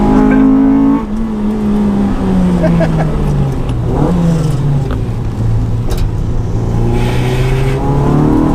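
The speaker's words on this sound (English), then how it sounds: "That VTEC sounds real nice. I'll tell you that. Yeah, it's super loud." A modified Honda car engine with VTEC revs loud and close inside the cabin, its pitch climbing and dropping in repeated pulls over a steady road rumble, with a voice talking over it.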